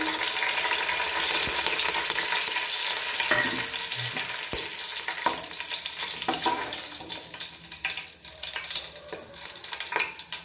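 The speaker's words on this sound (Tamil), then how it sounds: "இப்போ தாளிதத்துக்கு தேவையான பட்டை, கிராம்பு, ஏலக்காய், பெருஞ்சீரகம் எல்லாத்தையும் போட்டாச்சு" Whole cinnamon, cloves, cardamom and fennel seeds sizzle in hot oil for a tomato rice tempering: a loud, continuous frying hiss with scattered pops and a few scraping stirs, and no talking.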